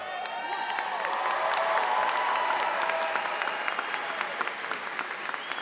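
Steady applause from a large audience at the River Ridge High School 2022 commencement, dense clapping filling the hall for several seconds with a faint murmur of crowd voices underneath.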